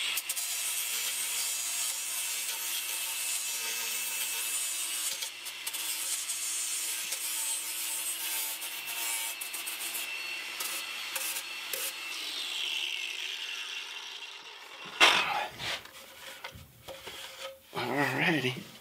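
Cedar wood being worked by hand to take the bevels off, a steady rubbing, rasping stroke that runs continuously and fairly loud for most of the stretch before breaking into a few shorter scrapes near the end.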